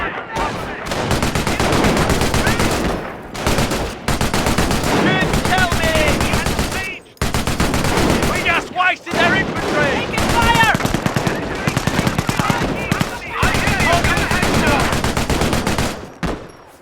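A machine gun emplacement in the Company of Heroes video game fires long, loud automatic bursts separated by brief pauses, with other battlefield gunfire and voices mixed in.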